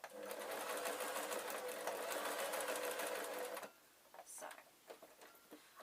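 A sewing machine stitches quilt strips for a log cabin jelly roll quilt, running steadily with a dense mechanical whir for several seconds, then stops, leaving a few soft clicks and handling sounds.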